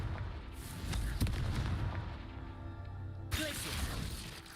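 A Confringo fire spell explodes in a video game, a dense booming blast with crackling debris at moderate loudness, followed by a sharp second burst near the end.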